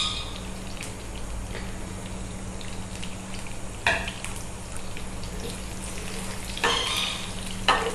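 Finely chopped garlic frying in hot oil for a desi tarka for dal chawal, a steady close sizzle running throughout with a few louder stirring clinks and scrapes.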